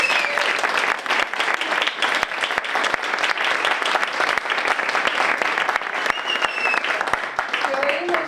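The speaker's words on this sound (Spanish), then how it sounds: "quiero un aplauso para él" Sustained audience applause welcoming a Portuguese guitar player onto the stage at a Spanish storytelling event, steady dense clapping throughout with a few brief voices mixed in.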